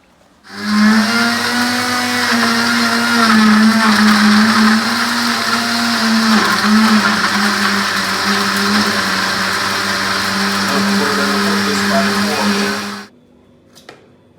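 Blender whirring through chopped jerk chicken marinade ingredients, one continuous loud steady motor whine for about twelve seconds, then cutting off abruptly, close and alone.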